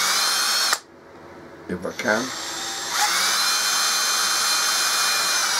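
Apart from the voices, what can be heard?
power drill drilling a hole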